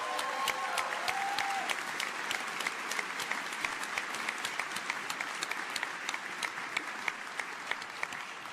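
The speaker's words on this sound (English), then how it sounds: "let's give them a big round of applause" Large keynote audience at the CES tech event applauds hackathon winners, a continuous even roar of clapping from a big hall, steady and fairly distant throughout.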